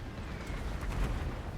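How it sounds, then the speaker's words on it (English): Explosive coral bolts burst in Warhammer 2: Total War, a dense, continuous rumble of small blasts with a few sharper pops rising over the low battle roar, steady and fairly loud throughout. "So many explosions."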